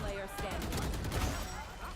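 Rapid gunfire from the Valorant video game during a G2 vs. EG pro match at the VCT Americas Playoffs, a dense, continuous burst of shots under loud excited commentary.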